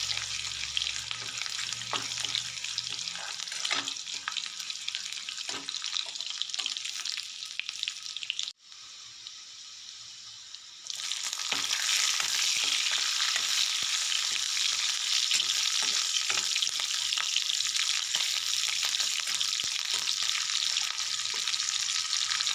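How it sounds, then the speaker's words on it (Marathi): Garlic and green chillies sauté in hot oil in a wok, a loud steady sizzle that briefly dips, then surges back stronger with occasional stirring clinks, close and without speech. "कढईत आपण प्रथम तेल गरम करायला ठेवले त्यात लसूण टाकलाय लसूण छान परतवून देऊ नंतर त्यामध्ये हिरव्या मिरच्या टाकू"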